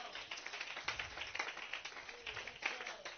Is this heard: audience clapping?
yes